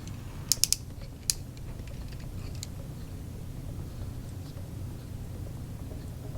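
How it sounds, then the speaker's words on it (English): A Mastermind Creations Seraphicus Prominon transforming toy figure has its joints ratcheted: a handful of short, quiet clicks close together early on, then only a faint room hush. "check that everything is ratcheting properly"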